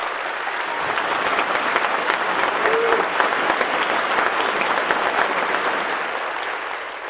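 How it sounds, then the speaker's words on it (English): A large TEDx audience claps loudly and steadily for several seconds, a dense wash of applause that holds evenly before easing slightly at the end. "Clap your hands as loud as you can."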